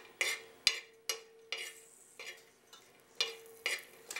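Whole green chillies roast in hot oil in a pan, giving a steady soft sizzle broken by about ten sharp stirring scrapes and clinks at a roughly even pace, close and clear with no talk.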